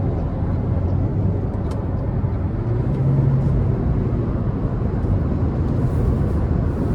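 A 2026 Toyota Prius XLE accelerating gently on the road, heard from inside as a steady low rumble of road and drivetrain noise, continuous and fairly loud with no speech.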